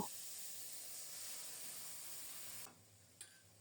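Whole cumin seeds and a ground spice paste sizzle in hot oil left from frying fish, a loud steady hiss that suddenly drops to a quieter fizz, followed by a brief clink.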